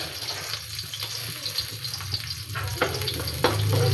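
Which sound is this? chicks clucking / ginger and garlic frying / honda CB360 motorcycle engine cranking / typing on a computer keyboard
ginger and garlic frying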